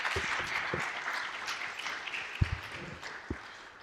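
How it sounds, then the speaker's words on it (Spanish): Audience applause welcoming a lecturer at an academic session, a steady, moderately loud patter of many hands clapping for a few seconds, with a few louder thumps near the end. "lo recibimos con un aplauso"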